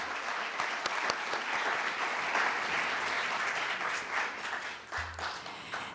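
An audience at a community awards event applauds a student chamber choir: sustained, dense clapping from many hands that stays full for several seconds, then thins and tapers toward the end.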